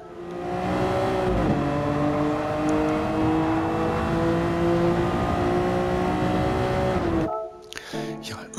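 A 1966 Jaguar XJ13 race car in a racing game, accelerating hard out of a corner at Interlagos: a loud, steady engine whine climbing in pitch for about seven seconds, then a sudden drop as the throttle lifts, followed by brief mechanical clatter.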